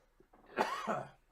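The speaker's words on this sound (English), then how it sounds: "I'm just going to keep coughing, I guess." A single short cough with a bit of throat clearing, close and fairly quiet, with no talking.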